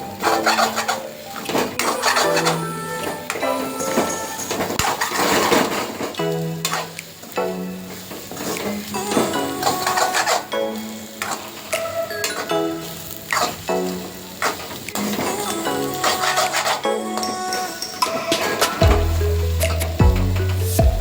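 A spoon stirs a cooking egg mixture in a pan, scraping and clinking against the metal with soft squishy, sizzling noises, in irregular strokes close by, and a few louder knocks near the end.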